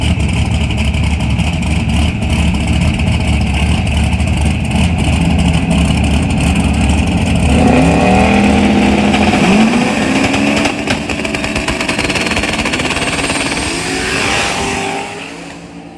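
A boosted old car revving hard and accelerating at a street race, loud and close, its engine note climbing through gears over a constant roar of crowd and track noise before fading away.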